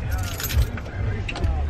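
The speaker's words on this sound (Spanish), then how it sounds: "O dame las llaves para yo abrirle." A bunch of car keys jangles and rattles up close beside a parked car, a bright continuous metallic clinking with a low vehicle rumble and faint voices underneath.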